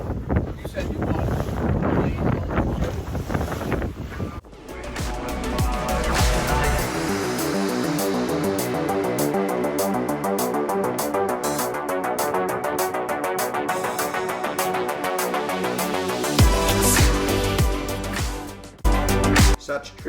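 Strong wind gusting over a 52-foot HH52 sailing yacht at sea in tricky conditions, a loud steady roar with rattling and buffeting across the microphone throughout.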